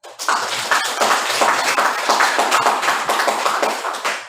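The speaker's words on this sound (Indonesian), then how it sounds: "Oke, tepuk tangan." A class of students applauds together in a teacher-training session at a university, a dense, steady patter of many hands clapping close by that swells quickly and keeps going for several seconds with no talk over it.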